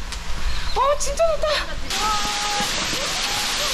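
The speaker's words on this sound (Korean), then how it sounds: "물소리의 정체는 바로 홍요 폭포." A waterfall about 33 m high on a mountain trail on Ulsan's Ganwolsan gives off a steady broadband rush. It sounds nearby and continuous, under voices at first and then mostly alone.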